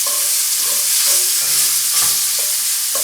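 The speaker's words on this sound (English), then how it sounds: "We're going to take our pandemic pancetta, which is ham and bacon," Pancetta of ham and bacon sizzling loudly in a pan, a dense continuous hiss broken by repeated scraping stirs of a utensil every second or so.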